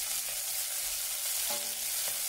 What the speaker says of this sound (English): They're sizzling away nice now.